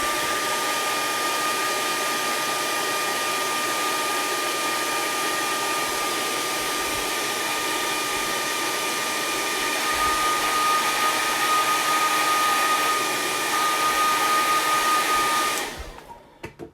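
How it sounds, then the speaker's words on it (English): A hair dryer blows heat onto an old sticker to soften its adhesive, a steady close whirring roar that holds for about fifteen seconds before cutting off. "the heat from the hairdryer, makes the adhesive kind of like sticky"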